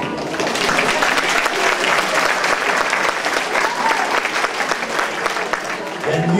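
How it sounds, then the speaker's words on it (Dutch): A large audience at a Saint Nicholas (Sinterklaas) celebration applauds young teachers after a song, with dense, steady clapping that holds loud and even across the clip, some crowd murmur mixed in. "Graag nog een stevig applaus voor deze jonge leerkrachten."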